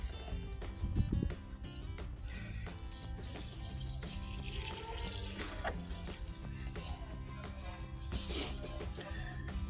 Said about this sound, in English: So I'm just gonna add some of the banana water now here.